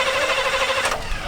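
A car engine being cranked after fuel pump trouble, a steady whirring drone with a brief burst near the end and no clear catch.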